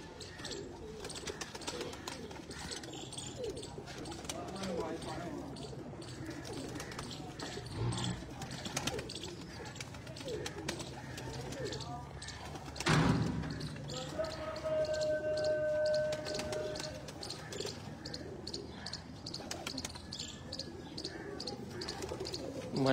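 Large pigeons on a rooftop in Chak Jhamra, Faisalabad, cooing and chirping nearby with scattered wing flutters and thumps, heard under someone talking throughout.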